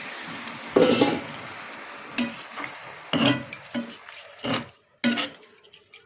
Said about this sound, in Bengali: এবার আমি পরিমাণ মতো জল দিয়ে দিলাম